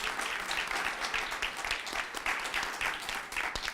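A round of applause at a city council meeting honours the Homewood High School Lady Patriots, many hands clapping in a steady, fairly even wash with occasional sharper claps standing out.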